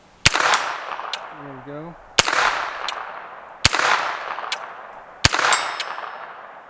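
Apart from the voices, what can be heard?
Han Solo blaster replica shooting steel targets at distance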